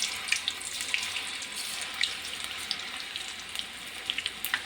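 Small balls of gobi (cauliflower) batter frying in hot oil for street-style gobi rice, a continuous close hiss scattered with faint crackles and pops.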